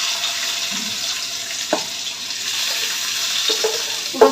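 Rice coated with turmeric frying in ghee in a wok, a steady hiss of sizzling throughout with a few brief scraping stirs near the end.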